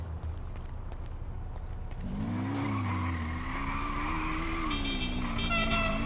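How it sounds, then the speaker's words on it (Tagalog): Car driving in a game, a rising engine drone with tire squeal and skidding that builds and holds, with brief high electronic tones near the end. "Oh, yun, may sasakyan."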